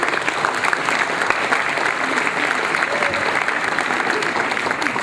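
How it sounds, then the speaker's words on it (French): Steady audience applause at a New Year's greetings event, a dense, even wash of clapping from many hands lasting the whole five seconds. "On peut encore une fois applaudir Daniel Raz et son fonds de fondation."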